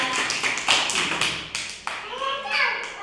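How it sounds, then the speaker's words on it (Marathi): Young children clapping together in an anganwadi classroom: several quick bursts of claps, close and fairly loud, mixed with children's voices talking. "चला त्याच्यासाठी पण टाळ्या वाजवा."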